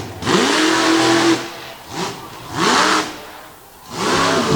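Ford Raptor monster truck on a J&B chassis roars through repeated revving bursts during a sky wheelie at a Winchester monster truck competition, loud and close, with four surging engine swells separated by brief dips.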